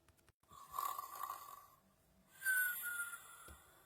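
Two drawn-out snores, each a breathy rasp with a whistling edge, close and fairly quiet, separated by a brief pause, in a children's story about snoring; the sound may be a person imitating it.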